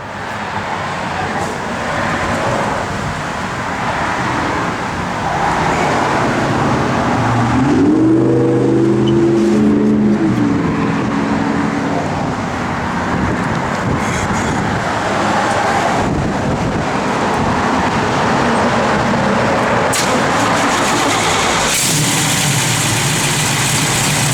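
A 1969 Chevrolet Camaro RS/Z28 engine runs and idles, a loud, close, steady rumble that holds throughout with a brief rev partway through and wind buffeting on the microphone.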